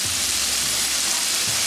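Onions sautéing with salt in a pan for chicken tikka masala give a steady, close broadband sizzle that holds at an even level for the whole short stretch, with no voices over it.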